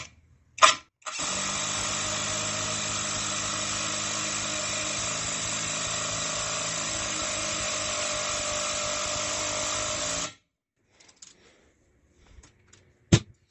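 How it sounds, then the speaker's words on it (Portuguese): A ProStormer 17 impact driver drives a 6x100 screw at torque level 3 in one loud, continuous burst of about nine seconds, preceded by a brief short trigger pulse, with a quiet near-silence and a few faint clicks afterward. "Eu tentei deixar o mesmo tempo em cada parafusamento aqui, percebendo a rotação da máquina."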